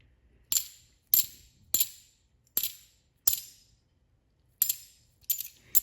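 Coins fall one at a time through a hand in a slow, uneven sequence of about eight sharp metallic clinks, each ringing briefly before fading into near silence.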